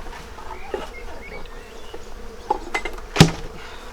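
Honey bees buzzing around an open hive during an inspection, several close individual drones passing the microphone, one loud fly-by near the end, with a faint insect hum throughout.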